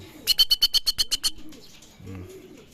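A racing homing pigeon coos close by, a quick run of about eight rhythmic pulses followed by a softer, low murmuring coo.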